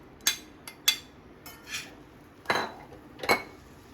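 Chopped potatoes go into a pan and get mixed, producing sharp metallic clanks and scrapes of a spoon against the pan, spaced out in short bursts over quiet background.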